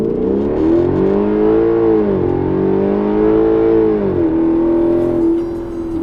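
A 2012 Hyundai Genesis 5.0 R-Spec V8 with about 140,000 miles launches from around 1,000 rpm with traction control off in manual mode. The loud engine roar climbs steadily and drops briefly at two upshifts, with no talk.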